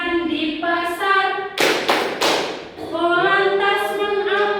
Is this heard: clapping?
yes